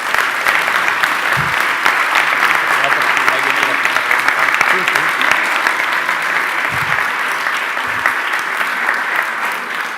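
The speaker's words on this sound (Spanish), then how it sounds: "Un aplauso." Sustained applause from a crowd, steady and dense clapping throughout with no break.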